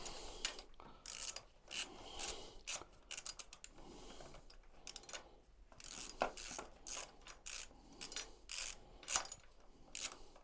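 A ratchet wrench tightens bolts on the guard of a Kawasaki Vulcan S motorcycle. Rapid, irregular bursts of close clicking come in short strokes with brief pauses between them, and no one speaks.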